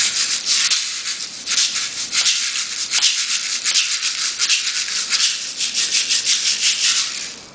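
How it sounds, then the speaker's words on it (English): A lettuce-shaped shaker rattles in rapid, crisp shaking bursts with a crunchy, leafy texture like cutting lettuce, close and steady throughout with no voices. "It actually sounds like when you cut lettuce."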